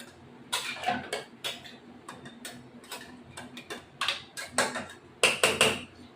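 A spatula stirs goat mutton in a metal wok, giving irregular clinks, taps and scrapes up close, quiet and in uneven bursts.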